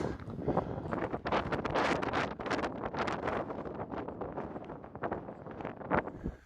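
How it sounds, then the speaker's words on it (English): Strong wind gusts roaring and buffeting the microphone on a gray, cloudy, chilly day along a desert hiking trail, loud and continuous with surging peaks and no talking. "It's real windy, as you can tell."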